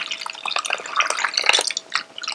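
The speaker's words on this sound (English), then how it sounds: "After adding the yogurt, I'm whisking it for about a few" Yogurt is whisked in a bowl to break up lumps, giving a quick, wet, rhythmic patter of clicks and slaps close by, with no talking.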